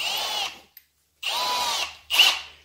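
A worn unibur chamfer tool is run into metal, giving three sharp whining bursts of cutting, the first two long and the last short, separated by brief quiet gaps.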